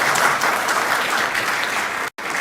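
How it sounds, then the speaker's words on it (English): Lecture audience at an inaugural lecture applauds the dean with full, sustained clapping from many people, loud and even before cutting off abruptly near the end. "I think you were supposed to clap for the dean when he finished, so can we do that?"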